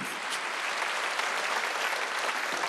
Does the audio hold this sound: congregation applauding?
yes